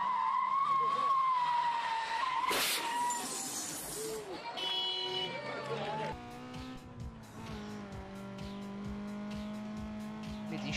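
Tires squeal as a car slides through a handbrake turn in the Need for Speed Underground 2 racing game, with a loud engine droning and shifting pitch under the skid and a voice talking over it.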